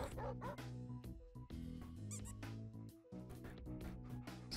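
A dog in the Animal Shelter Simulator video game yips and barks excitedly at a squeaky ball, with busy overlapping game sounds and faint talking underneath.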